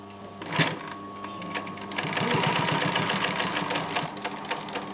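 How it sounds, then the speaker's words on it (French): Sewing machine stitching a blanket, a sharp clunk followed by a steady, loud mechanical whirring rattle that runs close and continuous, with no speech over it. "Je suis en train de coudre une couverture."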